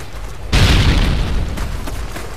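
A Semtex grenade detonates in Call of Duty Modern Warfare 3 multiplayer as a sudden loud boom that starts abruptly and then rumbles on with a sustained roar and scattered crackle.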